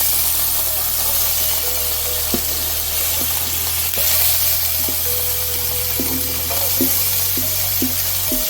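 Onions frying in melted butter in a hot pan, a constant loud sizzle and hiss with occasional light scrapes and taps of a utensil stirring, no voices.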